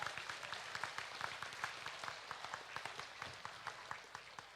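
Scattered applause from a small crowd at a county fair swine show, faint and distant, with individual claps standing out in an uneven rhythm throughout.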